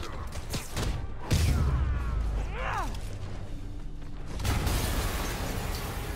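A game explosion in Spider-Man: a sharp crash and burst, followed by rumbling debris and a second swell of blast noise, with a voice heard briefly in between.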